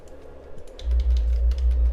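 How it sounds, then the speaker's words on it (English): Fast clicking keystrokes on a computer keyboard rattle along as a soft, irregular patter, partly masked by a low, booming rumble that swells partway through. "I like a keyboard with the sounds."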